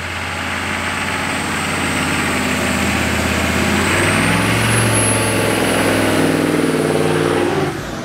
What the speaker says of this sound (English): it makes all the turbo sounds, and that's a nice whistly,